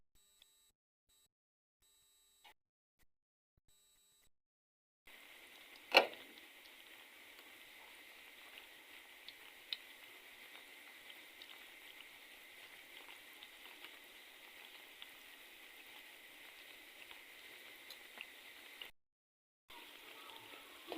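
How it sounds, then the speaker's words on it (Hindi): Bread pieces frying in oil over low heat for shahi tukda, a steady faint sizzle and crackle that starts after a few quiet seconds and carries on evenly, with a sharp tap near its start and no talking. "ब्रेड के पीसेस जो है इस तरह से हम इसे फ्राई करेंगे।"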